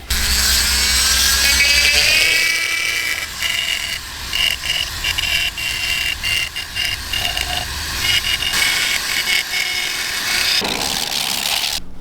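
Sandpaper rubbing a carved mahogany bowl spinning on a woodturning lathe, a loud steady rasping whir with a rattling mechanical undertone, continuous for several seconds with slight dips, no voices.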